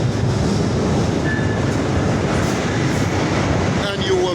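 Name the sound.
long train passing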